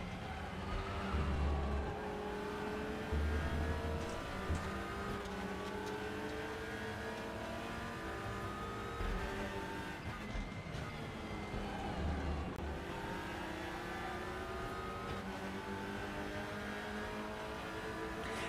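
Racing cars in RaceRoom, a TCR series including a Lincoln car, lapping a circuit with braking into Paddock Hill: steady loud engine drone with rising and falling revs, gear changes and other cars nearby, with commentators talking over it throughout.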